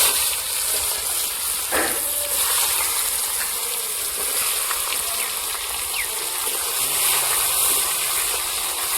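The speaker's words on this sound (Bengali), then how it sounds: "পেঁয়াজটা লাল লাল করে ভাজা হয়েছে" Chopped onion frying in a pan after fish heads, a constant loud hissing sizzle with faint clinks and scrapes, no voices present.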